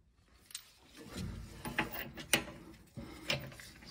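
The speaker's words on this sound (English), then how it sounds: "Next thing we need to do is to loosen these two bolts right here" Ratchet wrench loosening the 19 mm rear caliper bracket bolts on a 2016-2022 Lexus RX, a series of close, sharp clicking bursts with brief pauses between them, no talking.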